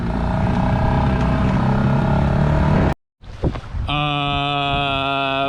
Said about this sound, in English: It's an irregular, like humming sound.